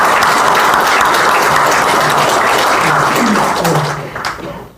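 A congregation at a religious service bursts into loud, sustained applause, a dense wash of many hands clapping that tapers off toward the end, with faint voices murmuring underneath.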